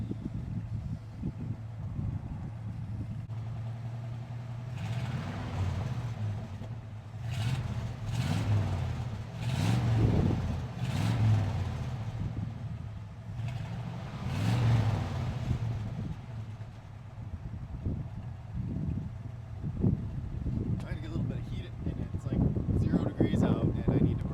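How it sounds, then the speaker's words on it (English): An old 1966 Jeep Gladiator truck engine, started cold after 24 years, idles and revs in uneven bursts, loud and nearby, while a person talks over it at times. "It sounds really good, engine-wise."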